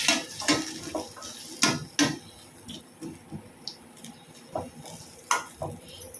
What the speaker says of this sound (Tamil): நல்லா கிளறி விடணும்.